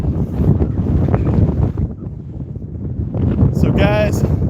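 Wind gusts buffet the microphone outdoors during a windy RC plane flight, a loud rough rushing that carries throughout, with a brief higher whine near the end.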